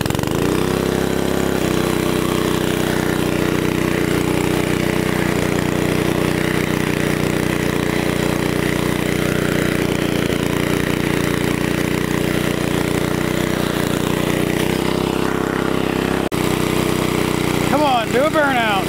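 A Pennsylvania Exeter reel mower's small engine runs at low throttle, a steady loud idle with a rough mechanical rattle throughout, briefly cutting and catching again near the end.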